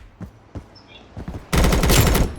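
Gunfire in the combat game Blackhawk Rescue Mission 5: a few separate sharp shots, then a sudden loud, rapid automatic burst for the last second.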